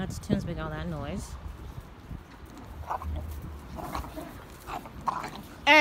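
Two dogs, a Dogo Argentino puppy and a Pit Bull, play rough with growls, grumbles and whimpering yelps that come and go over about six seconds, loud and close, with some talking over it.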